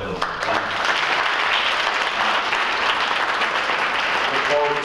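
Audience applause at a Black History Month celebration event fills the room with steady dense clapping, loud and sustained throughout, with some voices mixed in beneath it.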